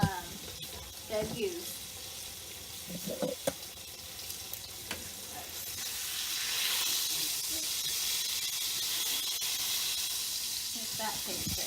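Bacon grease and flour sizzle and hiss in a hot pan, a soft steady crackle that swells partway through, with a few clinks and a brief voice in the background.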